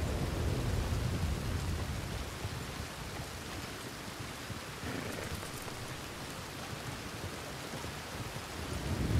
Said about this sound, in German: Gewitter nicht unter den Baum stellen, Haubi, weißt du doch.